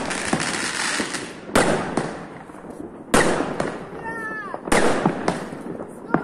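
New Year 2021 fireworks burst close by in several loud booms, with continuous crackling, a brief whistle, and more distant pops in between.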